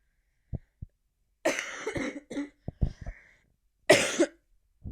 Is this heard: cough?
yes